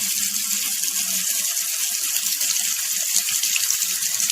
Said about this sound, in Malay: Perlahan-lahan, lepas tu keluar air daripada kecil sampailah yang paling kuat sekali.